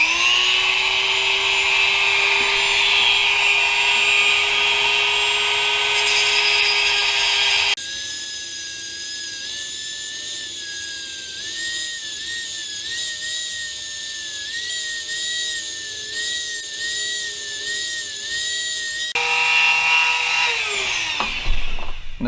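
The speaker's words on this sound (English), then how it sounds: "So I'm using that to grind it down rather than try to cut and get an uneven cut." A cutoff wheel grinding down metal on an Acura RSX, a steady loud high whine that shifts pitch as the wheel bites and eases, running continuously and alone with no talking.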